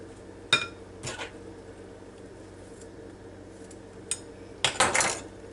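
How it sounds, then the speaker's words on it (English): A spoon stirs avocado salad with tomato in a bowl, giving a few sharp clinks against the bowl spread over quiet gaps, with a louder cluster of scrapes and knocks near the end. "Let's give it all a stir before we do anything."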